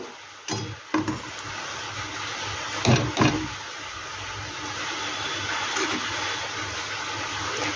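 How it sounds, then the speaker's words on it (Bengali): Jackfruit malpua batter frying in hot oil gives a steady, bright hiss that runs throughout, with a few sharp clinks and bumps of utensils near the start and middle. No one speaks. "একইভাবে আমি সম্পূর্ণ ভেজে নেব।"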